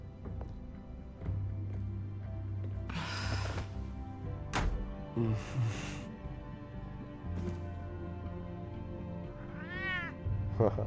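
A cat meows repeatedly in the Batman: Realm of Shadows video game, several separate mewing calls over steady game music, with one higher drawn-out caterwaul near the end.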